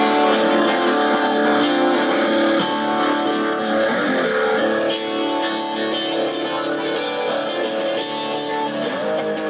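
A dense, sustained digital electric guitar chord wash with separate effects on each string, steady and loud throughout, layered tones ringing together without a break.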